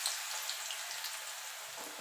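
Cut ridge gourd tipped into hot oil with nigella seeds on a high flame, giving a steady, even sizzle of frying that holds close and continuous from start to finish, with no voices.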